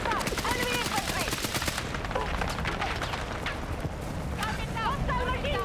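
Rapid bursts of machine gun fire in a combat video game, dense repeated shots layered with other gunfire and explosions, while voices call out over the battle.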